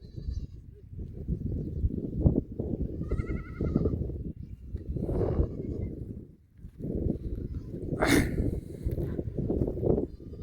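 Goats bleat now and then while grazing in a farm's groundnut field, the calls mixed into a steady rustling, windy outdoor background at moderate distance.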